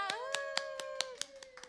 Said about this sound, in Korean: 우리 박수 쳐주세요